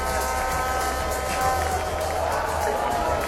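A cricket crowd at Queen's Sports Club cheers and murmurs in a dense, continuous wash of voices, fairly loud and steady, with a commentator talking over it.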